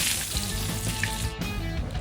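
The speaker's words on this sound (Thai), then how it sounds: "เต้าหู้เนื้อปลาครับ ใส่ลงไปทอดก่อนครับ ตามด้วยกุ้งสดครับ" Fish-meat tofu and fresh shrimp fry in hot oil for a Thai mixed-seafood stir-fry, giving a steady, busy sizzle with faint crackles throughout.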